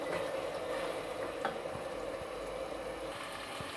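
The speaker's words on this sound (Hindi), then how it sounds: "इसको अच्छे तरीके से लहसुन और अदरक के पेस्ट में अच्छे तरीके से भून लेना है।" Chicken frying and being stirred in garlic and ginger paste in a pan, a steady low sizzle with faint scraping, fairly quiet and continuous, no voices.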